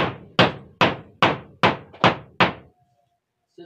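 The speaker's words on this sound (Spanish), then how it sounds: "lo que haces con el martillo, le pegas poquito" Seven steady hammer taps driving staples into wood, evenly spaced and close, then quiet with a faint scrape at the end.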